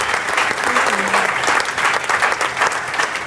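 Loud, dense audience applause at a supervisor training event, a continuous crowd of clapping hands filling the whole moment up close.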